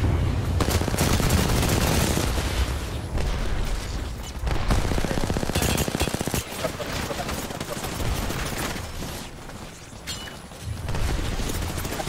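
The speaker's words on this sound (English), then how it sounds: "We're getting shot from roof!" Rapid automatic gunfire and fusillades from an Apex Legends match, dense bursts and booms running throughout, loud and close, with players talking over the shooting.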